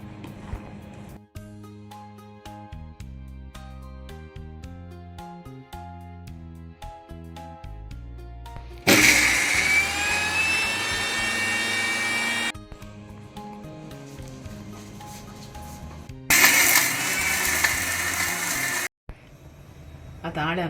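A mixer grinder whirs loudly while grinding curry spices for a Mangalorean chicken jeera miri curry, running in two bursts of a few seconds each, separated and followed by quieter kitchen sounds.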